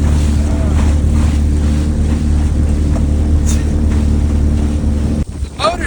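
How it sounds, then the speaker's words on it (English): A 70-year-old Starcraft boat's outboard motor drones steadily and loudly with wind buffeting the microphone, then drops away near the end as water splashes. "The motor's 70 years old."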